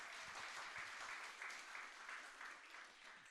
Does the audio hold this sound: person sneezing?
no